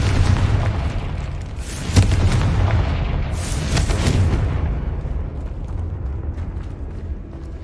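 Loud magical blasts from the Confringo fire spell in the video game Hogwarts Legacy: two booming bursts a couple of seconds apart, over a constant rumbling game background, with no speech.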